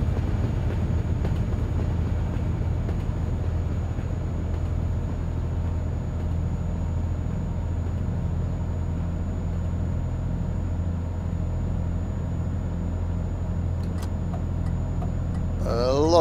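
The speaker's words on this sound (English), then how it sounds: "Alright, let's overtake the train." Steady low rumble of a passing train alongside a truck in Euro Truck Simulator 2, continuous and heavy with some wind-like noise, holding evenly throughout.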